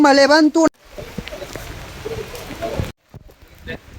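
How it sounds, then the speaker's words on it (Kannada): Steady rain patters down at Amboli through most of the clip, following a short burst of speech at the start, then briefly drops out before resuming more faintly. "ಮತ್ತೆ ಮಳೆಯಾಗಿದೆ"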